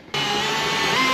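A power drill turning a long flex bit bores through a wall stud for crawl space wiring, starting abruptly and holding a steady, close, loud whine.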